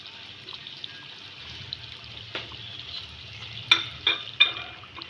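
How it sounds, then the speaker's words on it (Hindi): Spices roasting with yogurt in a karahi over a high flame, a quiet steady sizzle with a few sharp utensil scrapes and clinks toward the end. "दही के साथ ये मसाले इसको भूनूंगी मैं।"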